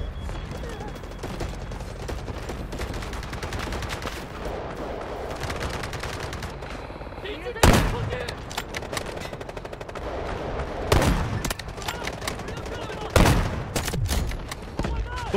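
Dense, continuous automatic gunfire from the mobile shooter game Delta Force Mobile, loud and sustained with several heavier bursts and booms standing out, no talk over it.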